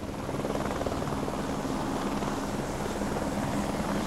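A helicopter thrums overhead during an offshore wind turbine repair at sea, with a loud, steady chopping of rotor blades and a constant engine whine, close by and without voices.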